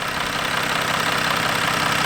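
A 2020 Jeep Wrangler Sahara Altitude with the 3.0 diesel idling, giving a steady, close, continuous engine drone with a rough, chopping rumble and no talk.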